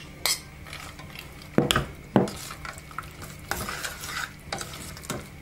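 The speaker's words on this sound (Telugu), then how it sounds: "ఇప్పుడు వేయించి పెట్టుకున్న ఈ జీడిపప్పు కొబ్బరి ముక్కలన్నీ కూడా దీనిలో వేసేసేసుకుని కలుపుకుందాం" Fried cashews and coconut pieces are stirred into jaggery chakkara pongali in a pot, with a few distinct scraping, clanking strokes of a ladle against metal over a soft sizzle.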